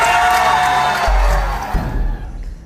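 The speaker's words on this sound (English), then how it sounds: "A crowd gathered outside the clothing store Fashion Bug." A crowd gathered outside the Fashion Bug clothing store in Sri Lanka shouts and cheers in a loud, dense clamour that fades away toward the end.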